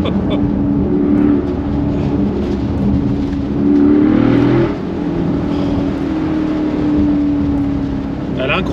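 A Brabus convertible's engine rumbles steadily and loud up close, swelling briefly as it revs during a manoeuvre, with a voice talking over it.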